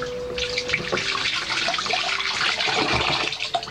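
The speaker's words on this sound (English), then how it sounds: "I'm always washing my hands while making the soap." Tap water runs steadily and fairly loudly into a sink as hands are washed during cold-process papaya and carrot silk soap making, a continuous splashing rush with no talk over it.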